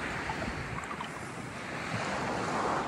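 Waves of an incoming tide washing onto a beach in North Naples, Florida, a continuous broad surf wash with wind noise buffeting the microphone, close and steady, no voices.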